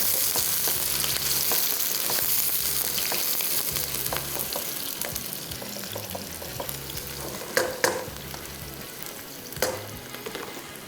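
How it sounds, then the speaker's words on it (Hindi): Onions frying in a pan, a continuous close sizzle under a low rhythmic background beat, with a few sharp clinks of stirring near the end and no talk. "वापस यहाँ पे आते हैं और प्याज को करते हैं फ्राई।"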